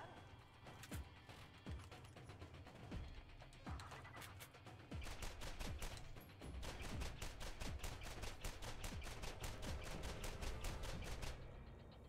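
The Dove gun in Borderlands fires in rapid bursts, sharp crisp reports that quicken into a steady rattling stream, with mechanical clicks between shots and no voices.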